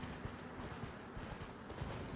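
Faint, muffled horse hoofbeats in the video game Elden Ring clop at a steady walking pace under a dense wash of background noise.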